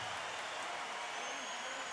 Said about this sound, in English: a round of applause for these two great super featherweight champions in the ring here tonight